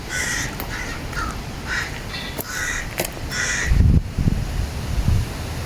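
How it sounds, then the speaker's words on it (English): Ravens caw in the graveyard of Greyfriars Kirkyard, Edinburgh, giving a series of harsh, close calls in uneven bursts, with rustling and wind-like noise underneath and a low thump near the end. "But these ravens have spotted something."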